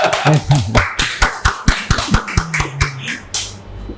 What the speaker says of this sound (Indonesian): Tepuk tangan ya, biar nggak sepi-sepi banget ya.